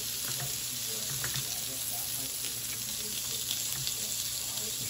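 Food frying in a pan for Korean cooking, a constant close sizzle with irregular pops and occasional stirring scrapes, no voices over it.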